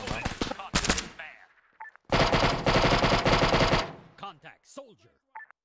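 Automatic gunfire in the ARMA 3 VR mod rattles out during close-quarters co-op combat aboard the USS Liberty, with a long, loud sustained burst following earlier shots and scattered sounds of the game afterward.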